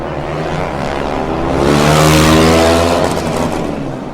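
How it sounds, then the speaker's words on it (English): A single-cylinder Formula Student race car revving hard with its exhaust fallen off, loud and raw, rising to a peak mid-clip as it passes close and then easing away, with harsh rasping harmonics and no talking. "that is a very loud single cylinder engine all of a sudden"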